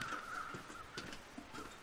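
Crows cawing in The Long Dark survival game, a few faint, distant caws repeating loosely over a steady windy hiss, with no voices.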